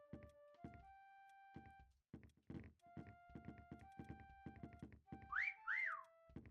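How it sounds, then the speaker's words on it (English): In the video game Meccha Chameleon, two quick rising whistle tones sound near the end, mixed with hollow thunks, knocks and short game tones that play throughout. "I need to hear the whistle again."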